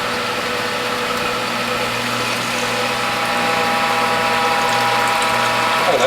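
A Whole Health Foundation juicer press is cranked, producing a rapid, steady ratcheting click over a low mechanical hum, growing slightly louder near the end.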